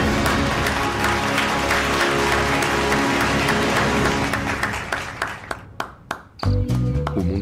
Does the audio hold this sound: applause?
yes